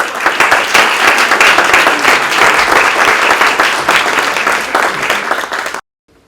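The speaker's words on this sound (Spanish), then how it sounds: "pido un fuertísimo aplauso" Loud, dense applause from an audience at a book launch, sustained clapping that continues evenly and then cuts off abruptly near the end.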